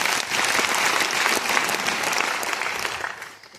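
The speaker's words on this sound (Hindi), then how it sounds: "सर के लिए जोरदार ताली।" An audience at a Safe Shop event in Preksha Bhavan, Motihari, bursts into loud, sustained applause honoring a guest, dense clapping that carries on steadily before tapering off at the end.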